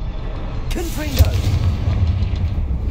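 Confringo blasting spell going off in Hogwarts Legacy, a loud booming burst with a sharp crack near the start, followed by a rumbling low roar and crackling debris that carries on for a few seconds.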